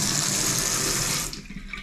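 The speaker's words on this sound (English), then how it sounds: "So the sink is right here with hot water and cold." Water gushes loudly from a kitchen sink tap in a flat, a steady hissing stream that cuts off abruptly near the end, leaving quieter drips and splashes.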